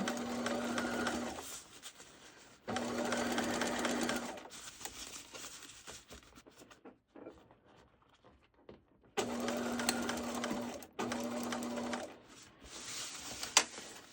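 Sewing machine stitching a fabric seam on a small baby outfit, running in steady bursts of a second or two, separated by short pauses and a longer quiet stretch, close and clear with no talking.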